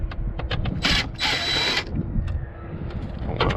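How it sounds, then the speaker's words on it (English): A power driver whirs in two short close bursts while Torx T15 screws are backed out of the air intake on a 2019–2020 Chevrolet Silverado 5.3L/6.2L, with ratchety clicks and small metallic handling noises between. "We're simply going to take out the Torx screws."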